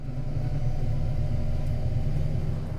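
A Cranchi Zaffiro 35 motorboat cruising at low planing speed, its engines giving a steady deep rumbling drone close by, with a constant wash of water noise and no talking.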